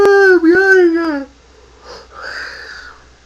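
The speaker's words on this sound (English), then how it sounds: "Oh, I'm yawning." A person in a vlog gives a drawn-out voiced yawn that rises and falls in pitch, followed by a softer, breathy exhale, close and fairly loud with no other talk.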